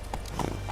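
Horse hooves clip-clop on the ground in The Witcher 3, a few quick steps heard up close over a low game ambience.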